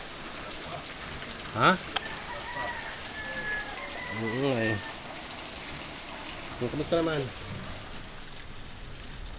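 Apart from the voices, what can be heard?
rain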